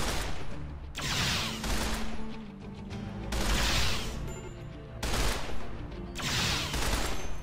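Stormtrooper weapons firing in RimWorld, dense bursts of rapid gunfire coming in repeated volleys with short gaps between them.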